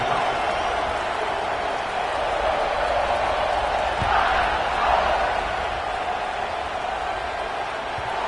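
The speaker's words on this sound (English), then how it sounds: "this crowd is buzzing after that last score" A stadium crowd buzzing during an NCAA 26 college football game: a continuous broad roar of many voices that swells slightly midway, with a commentator-like voice faintly beneath.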